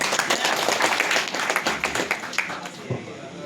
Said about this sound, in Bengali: স্যারের জন্য একটা হাততালি চাই।